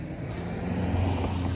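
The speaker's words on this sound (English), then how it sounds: "German car, good and loud" A German car passes by on a road beside a garden, a rising engine rumble and tire noise swelling toward the end of the short stretch, moderately loud with no talking.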